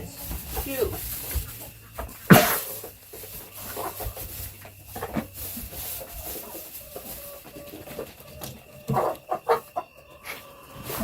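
Chickens cluck and squawk in a farm pen, with scattered calls, a sharp loud squawk early on and shuffling movement, while people talk nearby.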